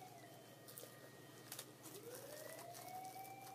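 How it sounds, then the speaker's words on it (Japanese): A police siren wails faintly in the distance, its pitch sweeping slowly down and back up over steady low background hum. "パトカーや"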